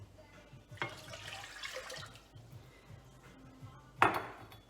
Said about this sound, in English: And then we're adding 2 cups of water.